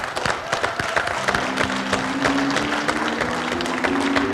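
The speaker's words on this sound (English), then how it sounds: "Let's give them a nice round of applause" Audience clapping for prize winners at a May show, a dense, steady patter of many hands filling the room throughout, with a low sustained tone running beneath.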